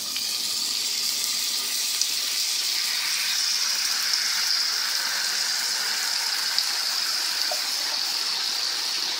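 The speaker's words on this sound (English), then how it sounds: "add these organic tomatoes, diced, no salt added. So just go ahead and pour that in there." Canned organic diced tomatoes with no salt added are poured into a pan, making a steady, wet, gushing rush that carries on evenly the whole time with no voices.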